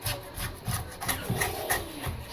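A paint palette being scraped clean with a tool, giving repeated rough scraping strokes at a steady rhythm, close and moderately loud, with no talking.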